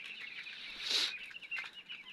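Eleven-day-old chicks in a poultry farm shed give faint, brief clucks and chirps, a short quiet burst and a softer call against a hushed background, with no talk.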